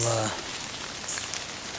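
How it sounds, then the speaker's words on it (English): Rain falling steadily outdoors on a cold, windy night during a hunt, a soft continuous patter filling the short stretch after a brief louder sound at the start. "it's raining"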